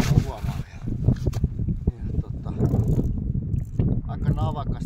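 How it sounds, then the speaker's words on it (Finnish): Strong wind gusts across a frozen lake during ice fishing, a steady low rumble of buffeting microphone wind noise lasting throughout, with voices underneath. "Aika navakasti alkaa puhaltelemaan."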